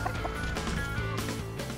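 Free-range laying hens scratching in a farmyard on an egg farm in Gyeongju, South Korea, with soft clucking over a steady, busy outdoor background.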